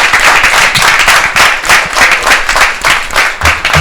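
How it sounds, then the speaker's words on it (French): Loud, dense audience applause and clapping for Frère Malcolm at the Samedi Bonheur event, a steady roar of many hands with no voices over it. "Un tonnerre d'applaudissements"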